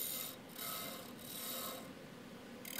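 Steady, even scraping and rubbing as a woodturning lathe cuts material from the top of a resin bowl held in a four-jaw chuck, with slight rhythmic swells and no speech.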